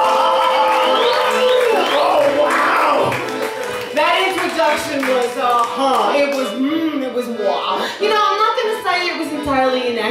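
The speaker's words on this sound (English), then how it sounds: "put the hands together to make the clapping for Bathtub Jen!" A theater audience at a vaudeville show claps and cheers for a performer, with loud, continuous applause and excited voices rising over it throughout.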